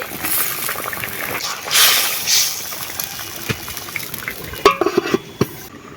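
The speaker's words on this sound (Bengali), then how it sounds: "এবারে দিয়ে দেবো টমেটো ভেজে রাখা বড়ি" Tomatoes and fried lentil dumplings (bori) sizzling in a pan, with a soft steady fry under stirring scrapes and a few clinks of a utensil against the pan near the end, close and without talk.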